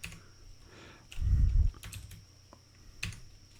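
Fingers type on a computer keyboard close up, with soft irregular keystrokes, a louder thudding burst of several keys pressed quickly, then a few more spaced taps, and no voices.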